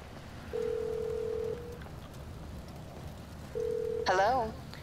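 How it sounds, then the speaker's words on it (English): Phone call to Mors Mutual insurance in GTA Online: two long steady ringback tones, then a voice answers on the line. "and if I call Morse Mutual,"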